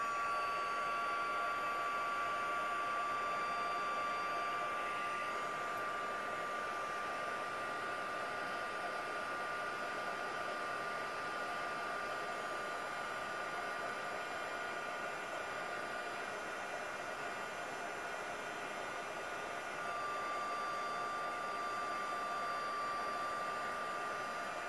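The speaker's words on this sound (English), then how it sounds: "I'm just going over to the heat gun." A heat gun runs steadily close by while paint on a flower craft piece is dried, giving a constant whooshing blower roar with a faint high whine and no pauses.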